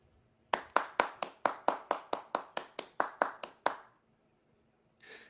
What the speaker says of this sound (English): I want to give another round of applause for the donkey community that's put in so much work in hating on Xbox.